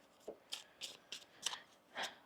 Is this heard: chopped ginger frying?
no